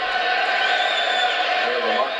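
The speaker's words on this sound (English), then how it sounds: "We have a mock cheer for Gilbert." Hockey arena crowd giving a sustained mock cheer, a steady roar of many voices filling the building, with a commentator talking over it.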